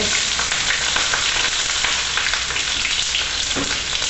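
Thinly sliced large onion fries in hot oil, giving a loud, dense, continuous sizzle and crackle throughout, with faint scraping now and then and no talking.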